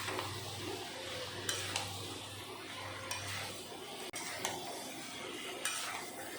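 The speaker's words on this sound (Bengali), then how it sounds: "এখন একটু সময় মশলার সাথে আর কাঁঠালের সাথে ভালো করে কষিয়ে নেব।" Fried jackfruit and potato are stir-fried in spice paste in a pan, a low steady sizzle broken by a few sharp scrapes and clinks of the spatula against the metal, close and alone.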